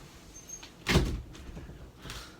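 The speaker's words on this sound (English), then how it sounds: "I'm going to close the door actually." A door inside a house swings shut with a single muffled thud, fairly close, followed by faint room noise and a softer knock or rustle shortly after.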